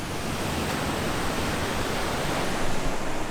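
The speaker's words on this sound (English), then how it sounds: "the name Devil's Tears is because of the spraying water that goes meters up" Ocean surf spraying at Devil's Tears on Nusa Lembongan, heard as a steady, loud broadband roar of crashing water with no distinct breaks, swelling slightly near the end.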